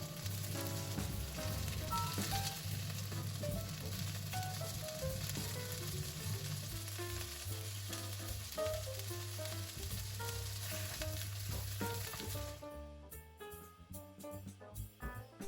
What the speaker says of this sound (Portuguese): eu viro-os para dourar o outro lado e vou adicionando mais pedaços